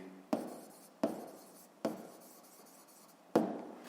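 Pen writing on paper for a 7th-grade physics exercise, four distinct scratchy strokes at a steady rhythm, each with a sharp start that tails off, close and quiet with no talking.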